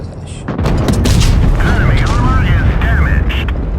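A HESH shell striking a tank in World of Tanks lands as a loud, booming impact, followed by sustained rumbling battle noise with a warbling tone over it, while a voice talks over the din.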